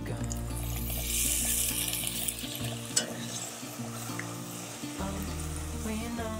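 Onions sizzling in a pan as malt beer is poured in to deglaze them, with a steady hiss alongside low background music and occasional clinks.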